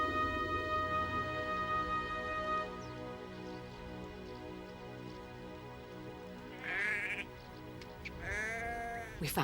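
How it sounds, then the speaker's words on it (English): Sheep bleating, a long wavering cry at first, then two more quavering bleats near the end, some distance off, heard alone without talk. "They're sheep."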